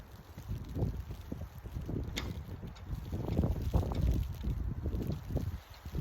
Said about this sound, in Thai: ข้างหลังค่ะมีลม แรงมากเลยค่ะ